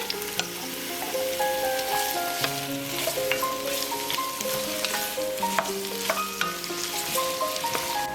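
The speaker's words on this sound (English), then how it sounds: "heat your oil in your soup pot and add your carrot, celery, and onion" Carrot, celery and onion fry in oil in a soup pot with a dense, continuous sizzle and scattered stirring clicks. Tuneful background music plays under the frying throughout.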